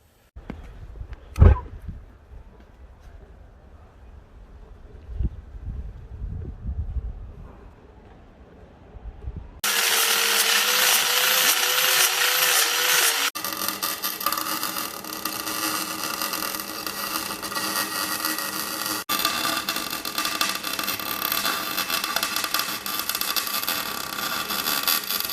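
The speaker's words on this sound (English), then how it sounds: "But for now, it's just welding this." A BMW E46 325 differential is welded, producing a steady, loud crackling hiss that starts abruptly partway through after a quieter stretch of clanks, then continues with a brief break.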